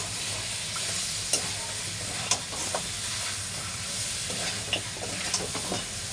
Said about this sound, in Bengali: খুব ভালো করে মাটনটাকে এখন কষানো চলছে